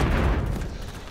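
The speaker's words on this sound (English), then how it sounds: "Throwing stun grenade!" Stun grenade detonating in Call of Duty MW3 on the Rust multiplayer map: a single heavy low boom that decays over about a second, heard alone without talk.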